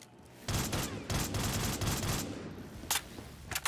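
Rapid automatic gunfire in Black Ops 3 Zombies on a Minecraft-style Five map, dense bursts running almost continuously, loud and close, with sharp single shots near the end.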